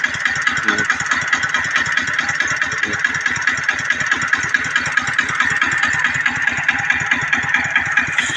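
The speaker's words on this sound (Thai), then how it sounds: "เสียงเครื่องยังนิ่มอยู่เลยนะนี่" A steady engine idles smoothly with an even, rapid low pulsing throughout, loud and close, with no voices.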